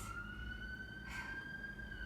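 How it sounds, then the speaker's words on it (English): An ambulance siren wails steadily in the distance as it passes by, a sustained tone that swells briefly midway, heard alone with no talking over it. "Ambulance going by."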